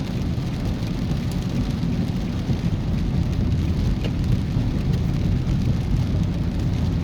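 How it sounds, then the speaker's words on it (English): Heavy tropical rain pours during a drive through Half Way Tree, a dense constant hiss of water drumming on the car with road rumble underneath, steady and loud throughout. "we're experiencing heavy rains"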